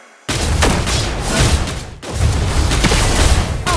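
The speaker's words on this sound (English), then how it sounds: "Your team destroyed a turret." A turret is destroyed in the Mobile Legends: Bang Bang video game amid dense, booming battle effects, a loud continuous barrage of blasts and impacts that breaks briefly before surging again.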